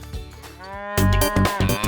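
A Limousin cow gives a loud, close, drawn-out moo. It starts as a lower, rough call, then rises into a strong, full-throated bellow.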